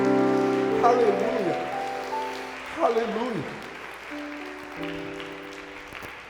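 Church congregation applauding at an anniversary service, a broad patter of clapping running under a voice singing and calling out, fading and swelling across several seconds.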